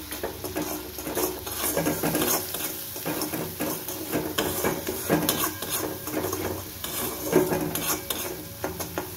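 Spices frying in a pan for rui fish korma, with steady stirring and metal utensil scrapes against the pan over a low sizzle, close and continuous.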